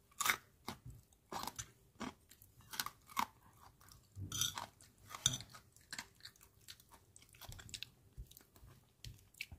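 Close, crisp crunching and chewing of crispy fried pork belly with chili paste fried rice, a steady series of quiet bites and crackly mouth sounds with no talking.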